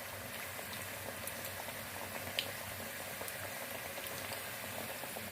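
Potato twisted samosa rolls frying in hot oil, a continuous bubbling, crackling sizzle that stays even and quiet throughout, with one small pop midway and no talk.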